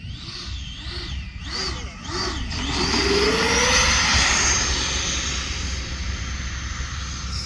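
A radio-controlled electric ducted fan YF-17 Cobra jet with Spektrum AS3X stabilization does touch-and-go passes, its loud whining fan rising and falling in pitch as it sweeps by, with a steady rushing roar throughout.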